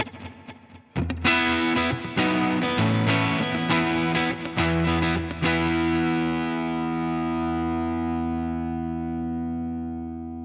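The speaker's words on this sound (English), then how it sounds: "we want to use a 63 spring as our always on reverb" Electric guitar chords strummed with a distorted tone through a Line 6 HX Stomp XL, the final chord ringing out and decaying slowly with a '63 spring reverb tail.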